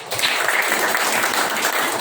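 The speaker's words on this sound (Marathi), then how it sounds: "तुमच्या सर्वांसाठी खूप जोरदार टाळ्या" Applause from the audience at a prize distribution ceremony, dense steady clapping filling the whole moment with no voices over it.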